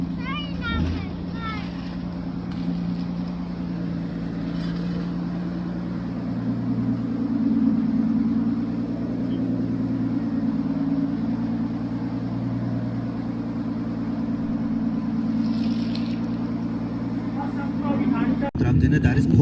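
A rally car at the Leader-Bet Winter Cup gives a steady, droning engine roar that holds for the whole stretch, with a commentator talking continuously over it.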